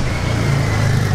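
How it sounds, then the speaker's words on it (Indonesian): Motorcycle passing close by on a Melbourne street, a loud steady engine roar lasting the whole moment without anyone speaking. "Suara motor apa tuh barusan lewat?"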